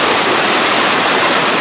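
Shirahige waterfall in Biei, Hokkaido, pours into a hot-spring-fed river, a loud, close, unbroken roar of falling water with no voices.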